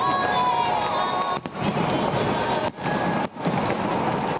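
New Year's Eve fireworks burst over central Bucharest in a loud, continuous barrage of crackling and booming, with a large festive crowd cheering underneath.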